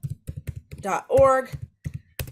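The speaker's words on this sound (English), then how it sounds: "let me type that here, apastyle.org" Rapid clicking keystrokes on a computer keyboard, close and crisp in short irregular bursts, with a person talking briefly in the middle.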